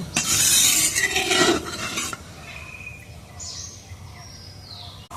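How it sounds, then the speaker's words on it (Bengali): Sliced okra tipped into a pan of boiling gravy with a rushing splash and sizzle, dying down to a quieter simmer with faint high chirps in the background. "এখন আমি ভেন্ডিটা ঢেলে দেব।"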